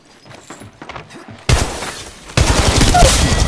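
Gunfire in the video game Apex Legends Mobile: sudden loud bursts of rapid automatic fire crash in after a quieter stretch of light clatter, continuing dense and harsh to the end.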